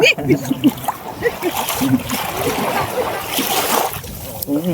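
Water splashes and sloshes close by as people swim in clear sea water, several people talking and calling out over it, with steady outdoor wash in the background.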